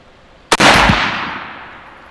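A single sharp, loud M1 rifle shot cracks at an outdoor shooting range, followed by a rumbling echo that fades slowly.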